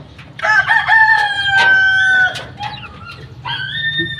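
A Boston Roundhead gamefowl rooster crows loudly and close by: one long, drawn-out crow, then a second, shorter crow after a brief pause.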